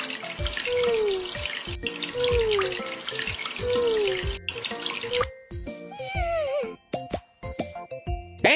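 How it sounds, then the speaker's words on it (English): Cartoonish shower water from a kids' pet-care video game, gushing in repeated bursts over a puppy with squeaky sliding tones and little chimes, ending in a few tinkling drips. "Let's shower him."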